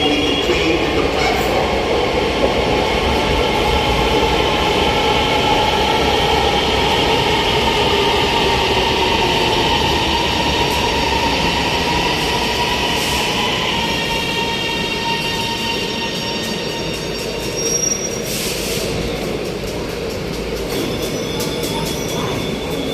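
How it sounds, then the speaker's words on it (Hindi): Orange Line metro train in motion, heard from inside the carriage: a loud, continuous rumble of wheels on rails with rising squeals and whines as it runs along the track. "अभी इस वक्त हम लोग ऑरेंज ट्रेन में हैं और आगे हमारा सफ़र जो है वो थोड़ा सा रह गया है"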